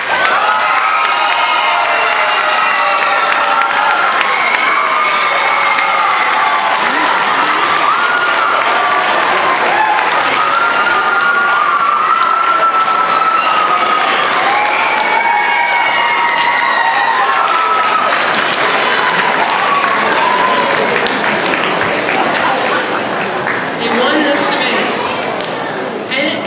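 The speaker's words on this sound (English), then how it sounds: "Enthusiastic applause for our second place team from Columbia." At a middle school debate tournament awards ceremony, a large crowd claps and cheers loudly and continuously, with children's shouts and excited voices riding over the sustained applause.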